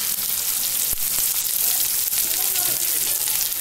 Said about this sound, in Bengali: টমেটোটা প্রায় নরম হয়ে এসছে, পেঁয়াজটাও আমার ভাজা হয়ে এসছে।